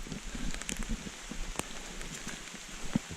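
Heavy rain pours down on the Appalachian Trail, a steady dense hiss with scattered louder drops and patters striking close by, continuous throughout with no one talking.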